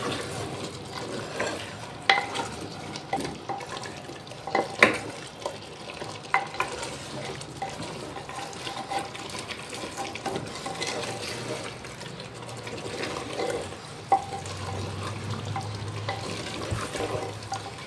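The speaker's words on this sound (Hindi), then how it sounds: "इसको अच्छी तरह से मिक्स कर लेना है।" Katwa gosht stirred and mixed in a pot with turmeric and coriander, a soft steady sizzle and wet scraping sounds, with occasional spoon knocks against the pot.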